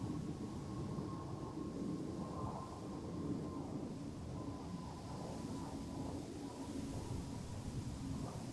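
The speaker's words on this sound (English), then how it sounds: "Transavia aircraft departing from center." A Transavia airliner departs Amsterdam Schiphol, its steady, broad jet roar holding level and loud throughout with a faint tonal whine riding on top.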